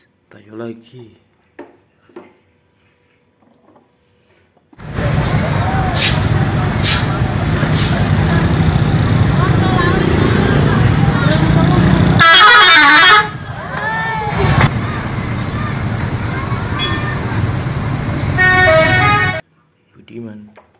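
A TransJakarta Tayo bus rumbles close by and sounds its horn in several loud honks, a long blast near the middle, while voices and street noise fill the gaps before and after.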